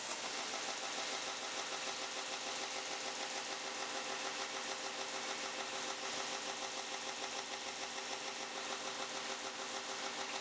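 A 2x72 belt grinder with a 2000 grit belt hums in a steady, even drone while polishing a knife blade toward a mirror finish, continuous and close throughout with no pauses.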